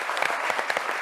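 A brief burst of lively applause from a crowd welcoming a performing troupe from Fès in Abidjan, dense clapping with sharper individual claps standing out, no voices.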